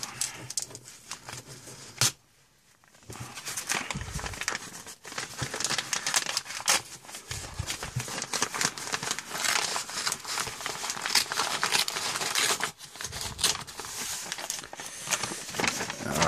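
A mail package being torn and pulled open by hand, dense close crinkling and ripping of paper and plastic going on almost without pause, with a brief lull early on.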